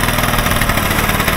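A Krot motor cultivator engine running loud and close in a winter test drive, a steady rough mechanical drone with no voices.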